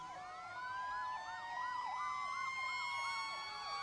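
An old Norfolk fire engine, number 2, sounds its siren in a street parade, a loud, continuous rising-and-falling wail cycling rapidly and evenly close by.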